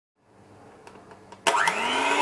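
An electric mixer starts up loud and steady, beating cupcake batter with baking powder after a quieter lead-in with light clinks, then runs on with a continuous whirring drone.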